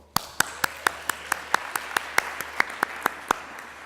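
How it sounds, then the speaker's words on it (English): At the Digital Humanities conference closing ceremony, sharp, evenly spaced claps ring out in a steady rhythm about four per second, sounding like a few hands or a single clapper close by over a quiet room hum. "ask you to applaud our destination for the DH 2018"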